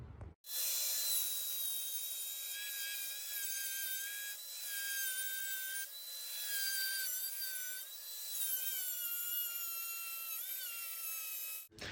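A variable speed grinder smooths the freshly cut wooden edges of a mudroom bench, giving a steady, close, high whine whose pitch drifts up and down for about eleven seconds with no talking.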